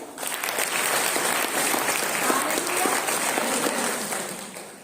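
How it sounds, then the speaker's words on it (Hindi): An audience at a church gathering applauds steadily for several seconds, with dense, even clapping that swells and then fades, alone with no talking. "ताली बजाइए।"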